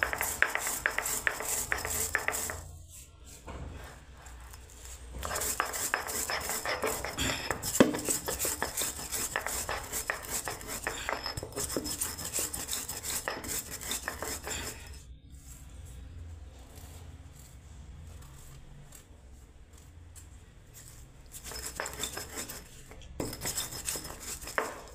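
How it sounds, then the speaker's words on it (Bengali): Roasted whole cumin being ground on a stone slab (shil) for a mixed-vegetable dalma, a steady scraping and rubbing with clicks of stone on stone, close and continuous, dropping briefly in a few pauses. "এবার আমি বেটে নিচ্ছি বন্ধুরা গোটা জিরের ভাজাটাকে"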